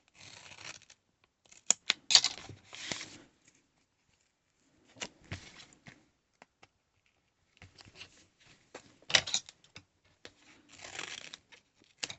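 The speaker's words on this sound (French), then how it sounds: "Oh, je prends pas les bons ciseaux." Scissors cut paper for a flipbook pouch in quiet bursts of crisp snips and slicing strokes, clustered in several groups with silent gaps between, close and fairly soft.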